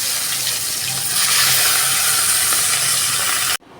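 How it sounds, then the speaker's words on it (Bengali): Pieces of rohu fish frying in hot oil in a wok, a dense steady sizzle that swells a little midway and then cuts off abruptly near the end. "কড়াইতে তেল গরম হয়ে গেছে। এক এক করে মাছগুলো আমি ভেজে নেব।"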